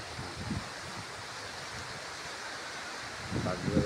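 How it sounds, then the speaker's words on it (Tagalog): Strong wind blowing on Mount Canlaon in the clouds, a steady broadband rush buffeting the microphone, with brief low voice sounds at the start and end. "Hangin guys."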